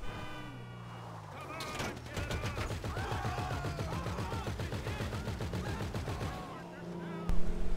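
Rapid gunfire in the video game GTA V, a long burst of fast repeated shots with engine drone behind it, loud and close, with a voice talking near the start.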